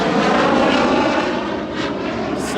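A low-flying airplane passes overhead on its approach to land near Boca Chica, a loud, steady engine roar that fills the whole moment and slowly fades a little.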